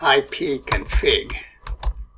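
Keys clatter on a computer keyboard as a command is typed into an administrator command prompt, a quick run of clicks heard beneath someone speaking.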